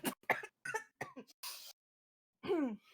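A person clears their throat and coughs several times in quick bursts up close, followed by a short pause and one final rougher throat-clearing rasp.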